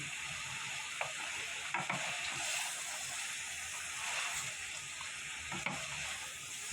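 Cut bottle gourd pieces hitting hot spiced oil for a curry with small prawns, giving a steady broadband sizzle with a few stirring clatters from the pan, close and moderately loud.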